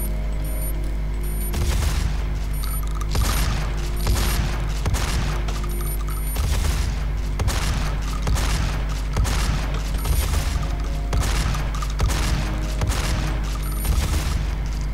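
Rapid bursts of gunfire and booming weapon blasts from GZDoom, a modded Doom game, fire repeatedly in dense volleys over a steady low hum, loud and close throughout.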